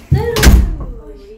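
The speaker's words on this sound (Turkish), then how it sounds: "kapattı kapıyı" A household door swings shut with a solid thump and short rattle, loud and close, followed by a quieter tail of room sound.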